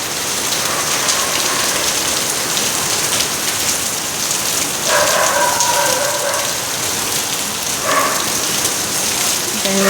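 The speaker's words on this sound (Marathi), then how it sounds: "मी चालली आहे घरी आणि असा मस्त पाऊस पडतोय." Heavy rain pours outside an apartment building, a loud continuous hiss of drops striking surfaces for the whole stretch, with brief faint tonal sounds rising over it now and then.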